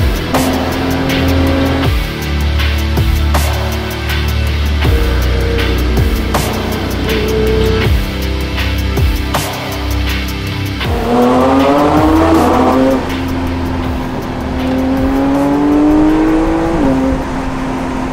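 A Porsche 911 GT3 driving on a road, its engine loud and sustained with rising and falling pitch through gear changes and acceleration, heard from inside or close by with no talking.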